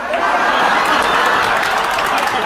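An audience at a stand-up comedy show claps loudly and continuously, a dense wash of applause with faint chuckles mixed in.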